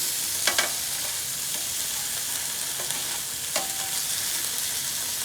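Chicken pieces for a homemade sizzler are stir-fried in a pan, a constant crackling sizzle with a few sharp clinks and scrapes of a spatula turning the meat, close and uninterrupted by speech.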